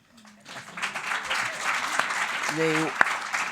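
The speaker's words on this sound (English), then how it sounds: "So Beijing, we have to clap for Beijing." An audience at a conference marking 30 years of the Beijing Platform for Action breaks into applause, swelling quickly after a brief voice and continuing steadily, with a short tonal chime and a sharp knock partway through.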